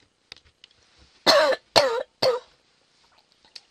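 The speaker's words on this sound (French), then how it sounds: "je vais faire que ça, me racler la gorge dans toute la vidéo" A woman clears her throat three times in a row, harsh, close raspy bursts about half a second apart, set in an otherwise quiet indoor room with a few small handling clicks.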